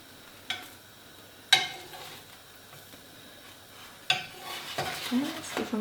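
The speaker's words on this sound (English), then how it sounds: "You can see actually the batter is bubbling away on the top there." Thai sweetcorn fritters cook in a pan with a soft steady sizzle, a few sharp utensil clinks and scrapes, and a busier bubbling stir near the end, no voices.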